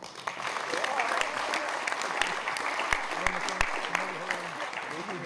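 Audience applause at a sports-awards ceremony honoring athletes of the year in Senec, Slovakia, a steady broad patter of many hands clapping throughout, moderately loud and continuous without talk.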